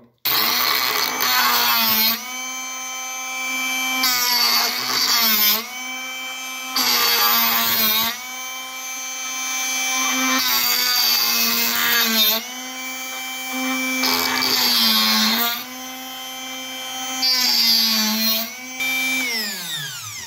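A Drill Doctor drill bit sharpener runs close and loud with a whirring motor tone. It comes in repeated bursts of about two seconds, with brief dips between, and no one speaks.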